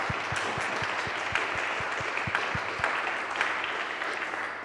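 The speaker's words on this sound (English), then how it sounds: "So can we give everyone a massive round of applause?" Audience applause after a talk: steady, dense clapping from a crowd continues throughout, with a rhythmic low thumping beat underneath in the first half.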